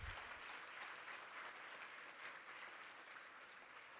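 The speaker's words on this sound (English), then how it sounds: "Let's have a round of applause for all of our honorees tonight." Banquet guests give sustained, steady applause for the evening's honorees at an awards dinner, a dense wash of clapping from a room-sized crowd, heard fairly softly and without voices.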